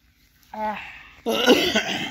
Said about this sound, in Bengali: আমার কাশি হয়েছে